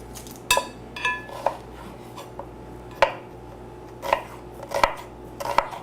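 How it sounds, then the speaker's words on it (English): Knife cutting a small purple onion into rounds on a board, with about eight sharp, irregular taps against the surface over a quiet kitchen background. "I'm gonna cut up purple onion, a small one."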